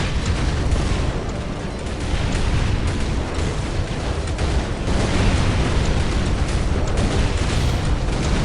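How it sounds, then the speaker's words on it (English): Airstrike explosions in the Warhammer 40K Dawn of War Crucible mod make a dense, loud, continuous roar of blasts and rumbling booms throughout a battle. "He's also doing the airstrike ability"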